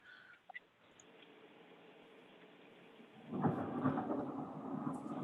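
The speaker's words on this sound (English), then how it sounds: "That's some storm coming through" A thunderstorm passes outside a small-town meeting, heard faintly and at a distance as a low rolling rumble that swells after a few seconds of quiet, with a couple of small clicks near the start and no talking.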